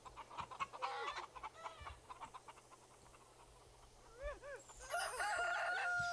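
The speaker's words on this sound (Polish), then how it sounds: "Nie no, nakarm te kurczaki, jak już tam jesteś." Chickens in a video game cluck in short, scattered bursts, soft and somewhat distant, followed by a brighter chirping run and a louder steady tone toward the end.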